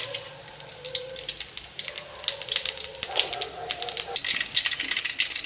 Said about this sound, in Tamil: கடுகு பொரிஞ்சிடுச்சுங்க.